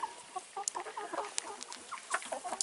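An Easter Egger chicken clucks close by with quick, busy chirps and short murmurs in a running series of soft calls, and no one speaks.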